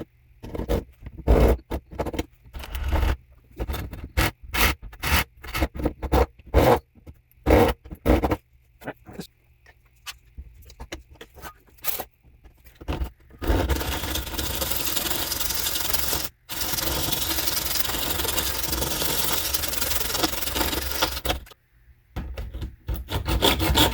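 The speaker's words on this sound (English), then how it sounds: "Okay, so we're going to cut this now." Part of a focuser piece from an Orion XX14g GoTo Dobsonian telescope is cut off by hand: a run of short, sharp rasping strokes, then a longer stretch of continuous, close grinding saw noise with brief pauses.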